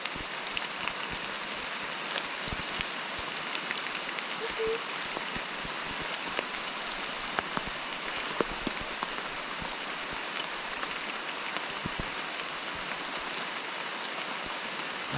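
Rain falls steadily on a forest trail near the Mine Gaspard, a dense continuous patter of drops with scattered sharper ticks, even and close throughout, with no talking.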